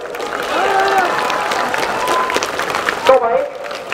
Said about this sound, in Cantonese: 大家拍掌支持佢哋。